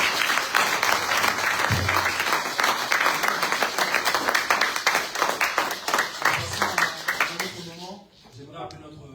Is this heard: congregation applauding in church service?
yes